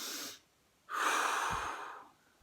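Noisy, audible breathing shown as a bad example during a calm breathing exercise: a short airy breath, a pause, then a longer, louder rushing exhale close to the microphone.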